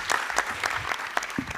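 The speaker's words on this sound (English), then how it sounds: "Where's the applause there?" Audience applause at a talk, a brief scattered patter of clapping from a modest crowd, fairly faint and uneven.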